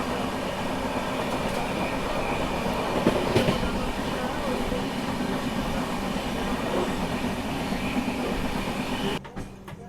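The Maharashtra Express passenger train rolls along the rails near Manmad with a steady loud rumble, faint clickety-clack and an occasional wheel squeal, and the noise drops off sharply at the end.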